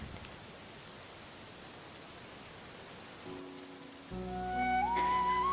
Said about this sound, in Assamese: চিপ চিপকৈ নামিছে পৃথিৱীলৈ বাৰিষাৰ প্ৰথম জাক বৰষুণ